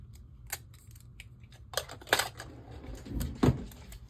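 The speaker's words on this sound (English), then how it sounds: "I think I'm gonna just put some Scotch tape down" Scotch tape being pulled from the roll and pressed onto a page in a Personal-size planner, giving a few sharp broadband rips and crackles spaced across the moment, close and fairly quiet, with no talking.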